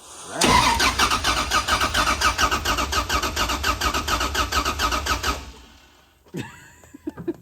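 Damaged 5.7L Hemi engine cranking with no compression: a loud, rapid, even whirring churn of the starter for about five seconds up close, then it stops without firing, followed by faint clicks and rattles.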